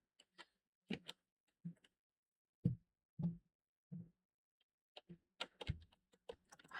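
Computer keyboard typing during a Grimshire gaming stream: scattered, irregular keystroke clicks, some in quick bursts and others spaced apart, quiet and close with silence between them.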